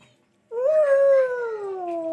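A child imitates a fox's howl with one sustained, smooth tonal wail that rises slightly and then slowly falls, loud and close after a brief silence.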